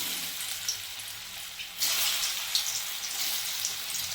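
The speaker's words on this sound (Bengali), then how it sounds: "কড়াইতে আগের থেকেই তেল দিয়ে দিচ্ছি এই যে এখন বসাচ্ছি" Oil frying in a kadai while a thick spinach-based mock-paneer mixture is set in, giving a steady broadband hiss that jumps louder midway as the food goes in, with faint stirring ticks.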